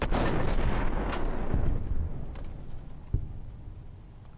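Explosions and bursts of gunfire in the video game Fallout: New Vegas, a loud booming blast at the start followed by several sharp cracks and a decaying rumble, with no talking.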